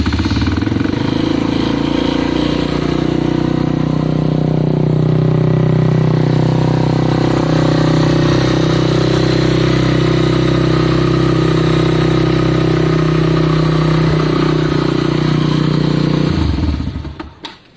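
A CBF 125 motorcycle engine runs on choke nearby, a loud steady chugging idle with a rattly clatter that holds evenly for about sixteen seconds, then sputters and cuts off; no talking.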